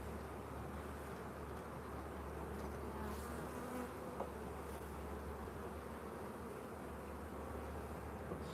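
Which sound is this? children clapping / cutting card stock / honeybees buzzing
honeybees buzzing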